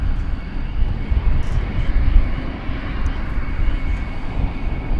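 A Qatar Airways Boeing 777-300ER jet taxis at Dallas Fort Worth Airport in the evening, its engines giving a steady low rumble with broadband roar that holds at an even level.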